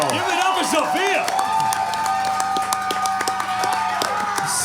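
Audience at a live singing show applauding and cheering after a performance, steady clapping and whoops heard alongside lingering music.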